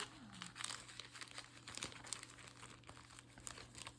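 A small plastic bag crinkles softly and continuously, close by and quiet, with irregular rustling pops and no talking.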